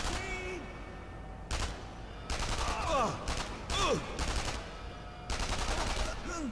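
Bursts of rapid video-game gunfire from Sniper Elite 3 crackle in loud volleys, separated by short pauses, with a faint steady hum underneath.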